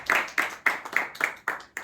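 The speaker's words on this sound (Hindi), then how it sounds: "ब्रदर के लिए ताली बजाओ।" A small audience in a Brahma Kumaris gathering claps for a man called up, seven or so loud, evenly spaced hand claps in a steady rhythm, close and alone without talk.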